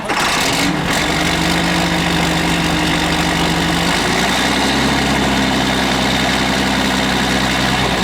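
A 2001 John Deere 8410 tractor with 3,462 hours idles at a farm auction, a loud steady diesel rumble that shifts lower partway through and keeps running.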